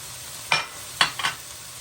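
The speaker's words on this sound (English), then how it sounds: "So our vegetables are softened. We're going to add our garlic." Minced garlic hitting softened vegetables in a hot pan for a stuffed pepper casserole, giving three short bursts of sizzling and stirring against a quiet background, with no talking.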